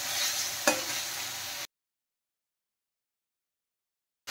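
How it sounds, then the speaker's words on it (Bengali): Spices sauté in a pan with a brief sizzle and a spoon scraping through them, ending in sudden silence after about a second and a half. "এখন কিন্তু মশলা ভালো করে কষিয়ে নিতে হবে, যতক্ষণ না মশলা থেকে তেল রিলিজ করে"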